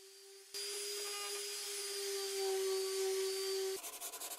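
A power sander whirs steadily against a wooden boat shelf for a few seconds, a constant high buzz that cuts off abruptly, followed by a pulsing rattle.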